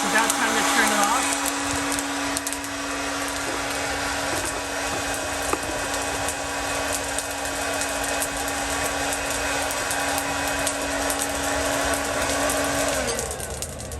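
A hot-air popcorn popper roasting coffee beans runs with a steady, loud whirring drone for the whole stretch, then cuts off near the end, with faint crackle of beans mixed into the blowing noise.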